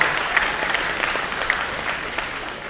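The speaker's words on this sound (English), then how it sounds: "round of applause for that" An audience at a school signing day claps steadily, a brisk, fairly loud burst of many hands with scattered sharper claps and a bit of voice underneath.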